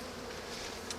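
Honey bees swarm close around a hive during an inspection, some flying at the camera, producing a steady, dense buzzing drone for a brief moment.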